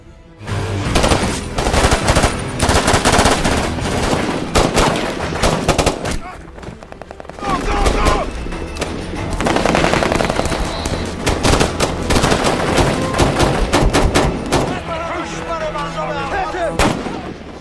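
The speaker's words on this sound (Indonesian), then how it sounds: "Sesampainya di desa tersebut, baku tembak pun tak bisa dihindari." A gunfight from the war film Sniper, dense bursts of machine-gun fire and heavy artillery blasts rolling almost nonstop, loud and close, with a brief lull partway through before the barrage resumes.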